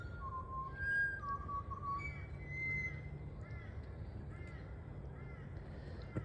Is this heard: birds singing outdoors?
yes